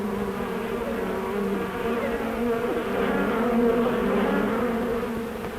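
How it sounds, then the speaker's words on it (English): A dense swarm of locusts fills the air with a continuous buzzing drone of countless wings, steady and enveloping, swelling slightly in the middle. "Plagues of locusts, winged killers in their millions, sweeping in on the trees and plants, devouring everything in their path."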